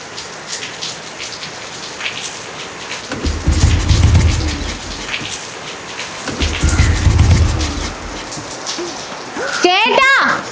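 Steady rain pours down in a heavy, even hiss on surfaces outdoors, swelling twice into louder bursts, with a voice speaking near the end.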